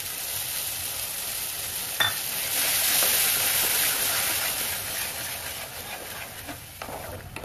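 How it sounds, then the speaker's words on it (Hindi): Tomato puree frying with lightly roasted spices in a pan for Punjabi Pindi chole, a loud, steady sizzle with a sharp burst as it goes in, then stirring scrapes, no talking. "मसाले हमारे हल्के से भून गए हैं और अब इस टाइम पर हम टमाटर प्योरे डालेंगे"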